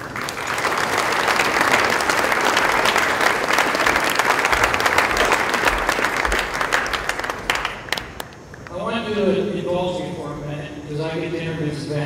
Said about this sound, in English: We can give him a round of applause because they deserve it.